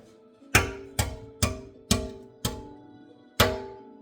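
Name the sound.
cracking the shell of a boiled egg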